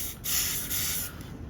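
BSI Instaset spray accelerator hisses from its pump bottle onto glued Java reef rock during an aquascape build, a steady close spray lasting just over a second with brief breaks.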